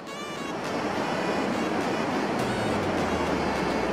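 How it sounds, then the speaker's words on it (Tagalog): Steady broadband rush of a river current flowing past the camera, loud and continuous with no talk over it. "Kinig siguro yung agos ng tubig dito sa camera, no?"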